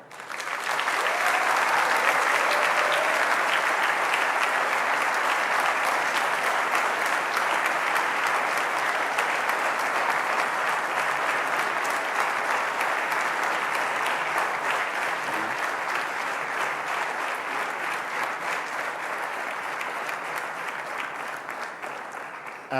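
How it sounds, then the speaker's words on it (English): Large audience at a Lagos gubernatorial debate giving sustained, loud, even applause as candidates walk on stage, a continuous wash of clapping that tapers slightly toward the end. "kindly give them a warm and a resounding round of applause"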